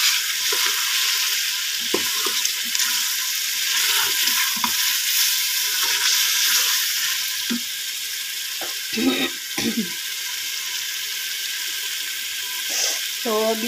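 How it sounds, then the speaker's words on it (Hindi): Mutton qorma with potatoes fries in a pot with a steady hiss and sizzle, while a spoon scrapes and clatters as it stirs, and someone talks at times over the cooking. "तो अभी इसको मैं मज़ीद भूनूंगी"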